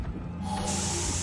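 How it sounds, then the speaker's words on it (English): First aid spray in Resident Evil 6, a steady pressurized hiss that swells from a soft start into a full bright spray lasting about a second, heard alone. "use my first aid spray"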